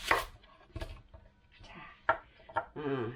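Onion chopped into strips on a cutting board for kimchi: a handful of sharp, separate knife chops at an uneven pace, close and fairly quiet, with a voice speaking briefly at the end.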